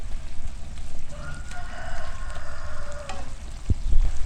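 Horseradish-tree vegetables with fish sauce sizzle in a pan while being stirred, a constant crackling fry with scraping strokes and a few sharp utensil knocks near the end.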